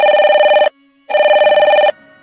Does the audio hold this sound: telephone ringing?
yes